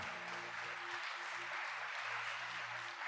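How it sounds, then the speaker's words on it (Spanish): Distant, muffled applause from a church congregation for a lawyer during a sermon on Hebrews, steady and soft throughout with a faint low hum beneath. "Démosle palmas al abogado acá."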